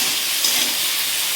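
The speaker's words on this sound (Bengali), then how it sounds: "আলুটা আর কি সামান্য একটু ভেজে নেব" Potatoes frying in a pan with a little turmeric and salt, cooked for aloo posto, give off a steady, close sizzling hiss with no pauses.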